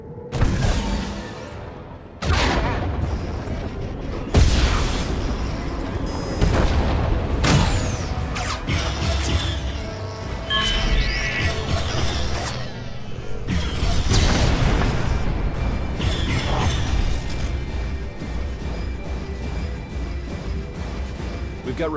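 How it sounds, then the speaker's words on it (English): Repeated heavy booms and crashes of missile explosions in Star Wars: The Old Republic strike at irregular intervals over a dense battle din, loud and close, with voices speaking through the action. "Look out, they've got missiles!"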